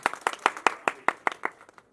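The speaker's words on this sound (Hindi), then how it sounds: "तालियां बजनी चाहिए।" About a dozen sharp claps from an audience at a press-conference ceremony, spaced in a fairly steady rhythm and fading toward the end, heard close and clear without talk.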